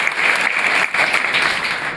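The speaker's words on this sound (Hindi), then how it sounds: "सूर्या के लिए जोरदार तालियां।" A crowd at a Haryana knowledge competition claps loudly for a student, a brief, dense burst of applause with a short dip midway before continuing.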